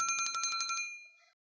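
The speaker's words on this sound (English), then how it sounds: "We can hear the sound of the bell." Bell rung through water for a sound-travel experiment, heard as a rapid metallic trill of about ten strikes that stops abruptly and rings out briefly into silence, bright and close.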